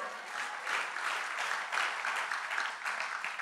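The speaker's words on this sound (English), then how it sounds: "Can we give him a clap offering today?" Church congregation clapping during a sermon, a sustained even patter of many hands that holds steady throughout, moderately loud with no voice over it.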